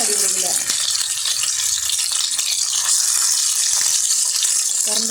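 Curry leaves sizzle hard in hot oil in a frying pan while a Kerala netholi (anchovy) curry is cooked, a loud, steady, hissing crackle that runs from start to finish, with a little faint background noise.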